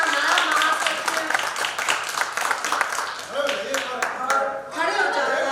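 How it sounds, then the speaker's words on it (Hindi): Loud applause and clapping from an assembled crowd at a civil liberties union unit conference, greeting a newly elected general secretary, with voices talking over the sustained clapping throughout. "ओके, जोरदार तालियां।"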